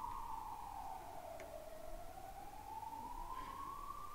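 An ambulance siren wails steadily in the distance, its tone sliding slowly down and then back up over a few seconds against a hiss of background noise, with no voices over it.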